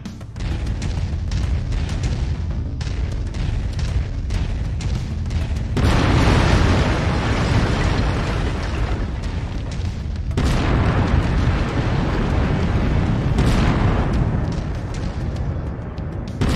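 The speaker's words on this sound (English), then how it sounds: "I've mapped the autocannon to weapon group one. You're free to fire whenever you're ready." Autocannon fire in the MechWarrior 5 Mercenaries video game: a dense, continuous barrage of heavy booming shots with loud surges and a few short pauses, sustained throughout.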